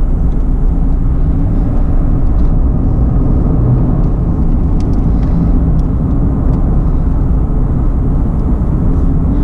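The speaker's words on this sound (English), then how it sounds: "It's just that the CVT noise lah." Steady low CVT transmission and engine drone with road rumble inside a moving 2018 Subaru XV, a continuous mechanical hum with no voices.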